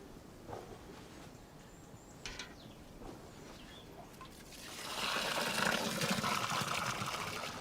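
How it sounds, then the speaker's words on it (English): Water pours into a planting hole dug in dry garden soil, a soft trickle that swells into a steady gushing fill over the last few seconds, with faint birdsong and outdoor ambience around it. "So fill the hole with water and let it drain away."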